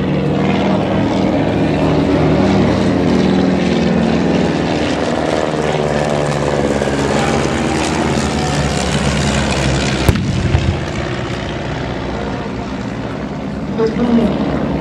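Fokker triplane, a First World War fighter, flying at an air display at East Kirkby, heard as a steady droning propeller engine that stays loud and continuous throughout, with a brief sharp click near the end.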